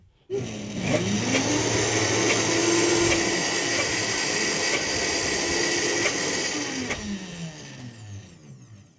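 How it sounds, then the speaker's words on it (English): A Vitamix blender whirs through almond ricotta in one loud, steady, close run of about eight seconds, its motor pitch sagging under load and then winding down as it shuts off. "we're just going to give it one more little whir on the Vitamix here"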